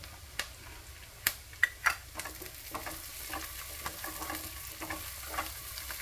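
Curry leaves and coriander leaves sizzling in hot oil in a pan while rasam is being made: a continuous crackling fry with several sharp pops and ticks near the start, and no voices.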